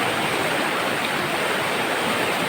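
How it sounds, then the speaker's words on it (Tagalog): A swollen stream rushing steadily after frequent rain, a dense, continuous broadband wash of flowing water, close and loud with no break across the whole stretch. "Medyo malaki nga po ang sapa ngayon."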